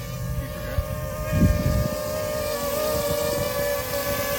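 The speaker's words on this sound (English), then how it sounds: "Let's listen to it. Oops. I guess it sounds okay." Tello drone hovering outdoors in breezy wind, a steady whining propeller hum with wind rumble buffeting underneath, fairly close throughout.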